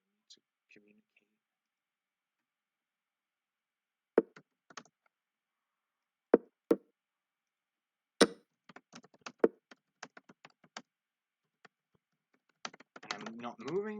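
Sparse, quiet clacks of typing on a computer keyboard in a small close room, arriving in short irregular bursts of keystrokes with long silent gaps, a few louder isolated taps, and a denser flurry at the end.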